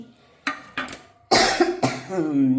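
Several coughs in quick succession, the later ones louder and harsher, with a throaty rasp trailing off at the end.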